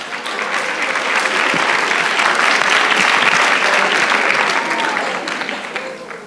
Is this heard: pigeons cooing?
no